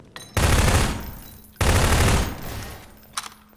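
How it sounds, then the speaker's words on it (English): Two long bursts of rapid automatic gunfire in a Prop Hunt video game match, loud and close, each lasting over a second, with a brief quieter pop near the end. "I just hear gunfire everywhere."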